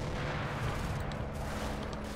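Distant crackle of gunfire rumbles through a battlefield scene in the World War II game Combat Mission: Battle for Normandy, with a steady, dense low roll and scattered pops continuing throughout, no voices.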